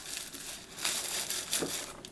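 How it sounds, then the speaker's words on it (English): Tissue paper for an Easter treat jar gets crumpled by hand in a close, crisp crinkling rustle with a few louder crunches. "we're just going to give it a little crumple so it doesn't look so neat and tidy"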